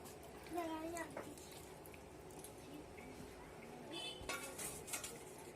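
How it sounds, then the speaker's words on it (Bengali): A spoon clanks and scrapes in a pot of chicken curry as water is added and stirred, a few metallic knocks and sloshy movement under nearby voices. "জল দিয়ে একটু নেড়ে নিচ্ছি যাতে তলায় না বসে যায়।"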